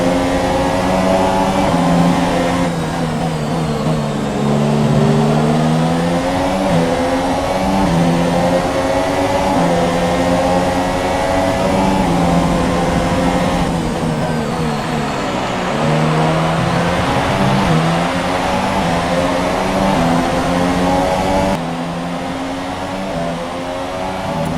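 Formula 1 car engine from the F1 2017 racing game, a loud, sustained high-pitched whine rising and falling through gear changes and revs, close and continuous without speech.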